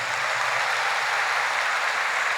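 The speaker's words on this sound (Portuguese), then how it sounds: "Aplaude ao Senhor Jesus." Church congregation at an Easter service applauding together, a continuous dense clapping wash heard alone, steady and fairly loud throughout.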